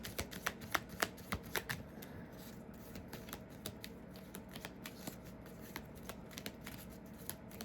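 An oracle card deck being shuffled nearby, a steady soft riffle of cards with sharper flicks and taps throughout, quiet and continuous with no talking.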